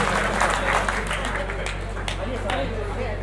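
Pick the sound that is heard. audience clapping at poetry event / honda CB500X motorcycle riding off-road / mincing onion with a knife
audience clapping at poetry event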